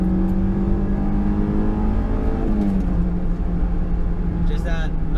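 Honda S2000 AP1 sports car engine revving up toward its 9,000 RPM redline, a steady loud mechanical tone that climbs in pitch then settles, with faint voices briefly near the end.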